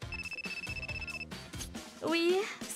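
A telephone rings with a steady electronic tone through ongoing talk, then gives way to a rising voice near the end; the ring sits moderately loud under the conversation.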